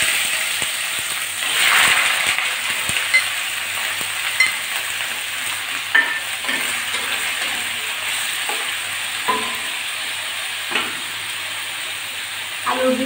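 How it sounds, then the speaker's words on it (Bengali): Potatoes dropped into hot white oil in a wok, frying: a loud burst of sizzling at first, settling into a constant hiss with occasional clinks and stirring knocks. "এখন আমি আলুগুলো আগে ভেজে নেব। আলুগুলো দিয়ে দিচ্ছি।"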